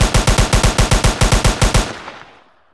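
Rapid automatic assault rifle fire in a video game, about fourteen loud evenly spaced shots in under two seconds, then a short ringing tail fading to silence.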